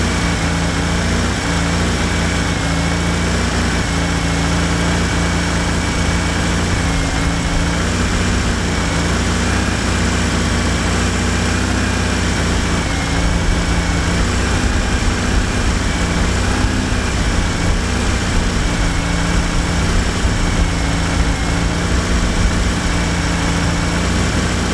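A Fiat Panda 4x4 engine runs steadily on a hand-held choke, a continuous buzzy idle with a constant drone that stays loud and close for the whole stretch, no voices.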